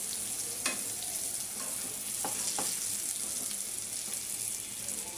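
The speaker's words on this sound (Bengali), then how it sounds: "আমি 2 পাশ উল্টায়া ভাজি করে নিলাম সুন্দর করে" Eggplant slices and three chillies frying in a pan, a steady close sizzle with soft crackle and a few light clicks as the pieces are turned, no voices.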